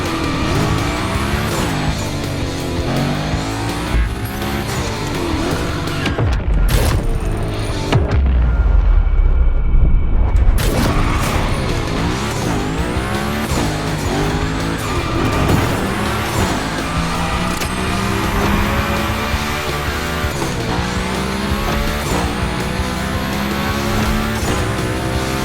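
Car drifting through a Gymkhana run in The Crew Motorfest, with a loud continuous roaring engine, shifting revs and sustained tire squeals and skids, broken by a brief deep rumbling lull before the screeching resumes.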